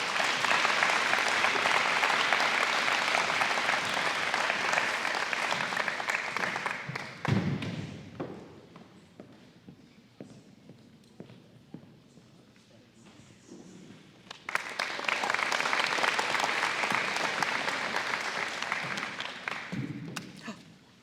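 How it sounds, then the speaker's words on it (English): Applause from the audience at a high school scholarship night: loud, dense clapping that fades into a quieter stretch with scattered thumps and footsteps, then swells again into a second sustained round before tapering off. "Let's please give a big round of applause to Sydney Gallup."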